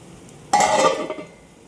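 A spoon stirs white sardine curry in a cooking pot, giving one brief burst of scraping and clinking against the pot with a soft simmering hiss that fades quickly.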